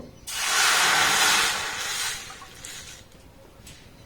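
A cup of water is poured into a well-heated pan and bursts into a loud, steady steam hiss that lasts about two seconds before fading into softer sizzling, close by with no talking.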